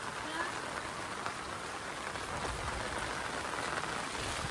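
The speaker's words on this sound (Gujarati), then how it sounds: "વરસાદ ચાલુ થયો" Steady rain falling, a dense even hiss of drops on surfaces throughout, with no voices standing out.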